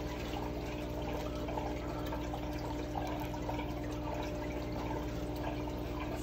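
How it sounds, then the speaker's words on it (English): Water pours steadily and continuously during a small five-gallon aquarium water change, a dense even rush with no pauses and no voices over it. "Now I'm only doing a small 5-gallon water change"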